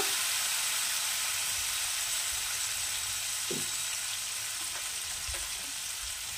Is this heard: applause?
no